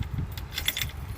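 A bunch of keys jangles close by in short metallic rattles over a low background rumble.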